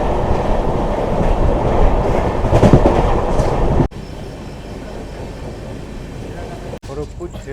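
Kriya Yoga Express running between Howrah and Ranchi, heard from inside an AC chair car as a loud, steady rail rumble with clatter that drops to a softer hum partway through, with brief sharp breaks.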